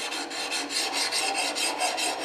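Fine 600-grit abrasive rasping steadily against the steel of a scorp, a chair-building tool, in continuous close strokes with a gentle rhythmic swell, alone with no talk.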